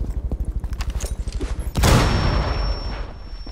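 Gunfire in a video game: a rapid, even train of sharp shots runs for nearly two seconds, then one loud booming blast with a long, ringing decay and a thin high tone hanging afterward.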